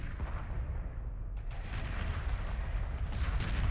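Bombs and weapons fire from a space battle in the strategy game Homeworld Galaxy FX rumble as a dense, continuous low barrage of booms and blasts with no one talking.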